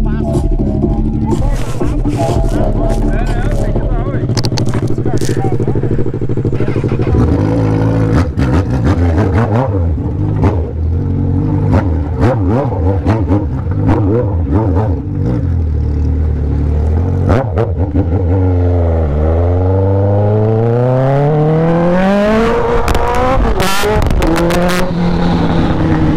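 A Honda CB1000 motorcycle is ridden hard while doing wheelies, its engine revving loudly and close up. The pitch sweeps up and down continuously, with sharp rises toward the end.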